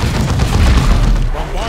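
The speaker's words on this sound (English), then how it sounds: "Bombardment from a hive node." Bombardment blasts from a hive node in the Dawn of War 2 video game, a loud, continuous rumbling boom with crackling impacts and voices mixed in over the short burst.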